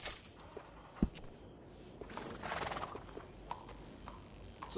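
A horse in Red Dead Redemption 2 snorts and whinnies softly while being groomed, hooves clopping and shuffling nearby, with a sharp knock partway through; quiet game sound with no talking.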